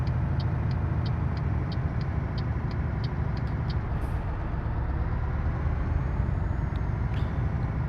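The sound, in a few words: Scania truck driving in a video game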